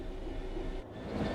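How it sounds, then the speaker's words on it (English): Continuous low rumble and rolling wheel noise of a train slowing under brakes in the Train Sim World 3 simulator, steady and faint, with no voices. "Bring this train to a complete stop by holding the brake control in the apply state"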